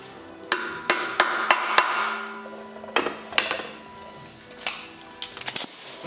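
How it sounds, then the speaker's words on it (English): A hammer drives a hex head socket into a stripped bolt on an Audi AAN engine during teardown: a quick run of four sharp metallic strikes, a pause, then several more spaced blows, close and ringing. "so then you want to go ahead and hammer in your hex head a little bit"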